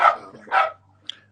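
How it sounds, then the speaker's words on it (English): A neighbor's dog lets out two sharp barks in fairly close succession, followed by a faint short yip, heard alone without speech. "Oh no, that's my neighbor's dog."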